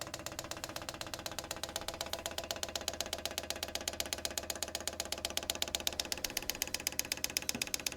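A diesel heater's fuel pump priming, heard as a steady rapid ticking pulse running the whole time alongside a constant mechanical hum, close and fairly quiet, with no talking.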